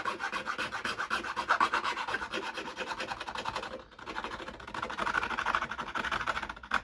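A cheap Harbor Freight hand file rasps steadily across the face of a 3D printed plastic tailgate, continuous close scraping strokes with a brief pause midway before the filing resumes.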